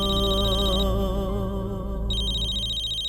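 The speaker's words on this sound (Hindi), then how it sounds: "कब से तुम्हें कोई कॉल कर रहा है, फोन उठा लो ना।" A mobile phone rings with an incoming call, a steady electronic ringtone with sustained tonal layers that shifts in pitch partway through, playing continuously and fairly loud with no talk over it.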